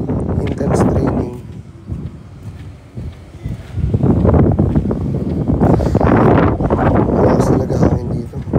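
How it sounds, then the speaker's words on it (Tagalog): Strong outdoor wind buffeting a microphone, a loud broadband rumble that surges and eases over several seconds, with people talking underneath. "Malakas talaga hangin dito."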